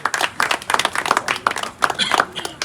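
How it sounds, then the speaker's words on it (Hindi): A smaller crowd claps at a pigeon-flying tournament prize distribution in Nagpur, irregular close hand claps in bursts, with voices talking over them. "तालियों से इनका स्वागत करें"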